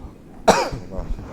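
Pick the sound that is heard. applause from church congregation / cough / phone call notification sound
cough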